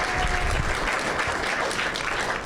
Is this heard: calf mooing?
no